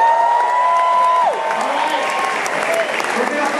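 A crowd at a Star Trek fan event bursts into sustained applause and cheering, dense clapping with whoops and a whistle over the roar, loud and steady throughout.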